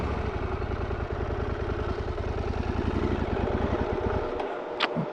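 A motorcycle engine runs with a steady low pulsing idle, then cuts out and drops away near the end of the clip, with no talking.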